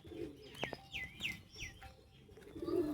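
Pigeons, black and white among them, coo in a series of soft, low, rolling calls, with a few brighter chirps from other birds in between, fairly close and with no one talking.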